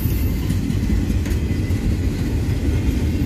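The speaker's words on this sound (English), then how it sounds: "Pretty big train." Union Pacific intermodal freight train with double and single stack cars rolling past, a steady loud rumble of wheels and cars close by with no voices.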